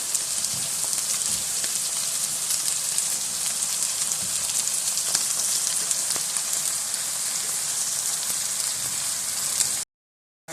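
Capsicum, cabbage and fried potatoes stir-frying in a pan for chicken vegetable fried rice, a loud steady crackling sizzle like heavy rain that runs unbroken for about ten seconds before cutting to silence, no talking.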